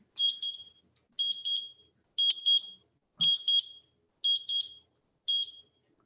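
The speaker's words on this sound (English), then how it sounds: "there's my timer" A kitchen timer sounds a shrill electronic alarm in repeated bursts of rapid double beeps, about one burst per second, loud and close in an otherwise quiet room.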